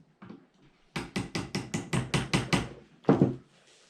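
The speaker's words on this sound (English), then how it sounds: "let's grab a hammer." A hammer drives pins through knife handle scales on a drop point knife: a faint early tap, then nine steady, evenly spaced strikes and one heavier final blow, close and alone.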